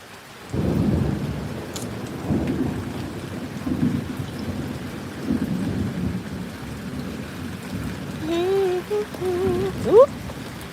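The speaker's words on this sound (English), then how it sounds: "the rain started coming this way. The wind is blowing it back over here." Wind-blown rain falling outdoors, a steady, loud rushing hiss with gusty surges and rumbling swells, continuing throughout; brief bird chirps appear near the end.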